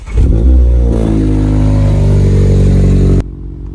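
Mazda MX5 engine revs up loudly and close, holding a raspy, rising exhaust note for about three seconds before cutting off abruptly.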